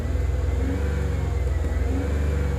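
A 2006 Ford Five Hundred 3.0L engine with a throttle stuck closed and forced idle, running with a steady low rumble and a sluggish, slow-rising rev under the throttle pedal, close up and without talk.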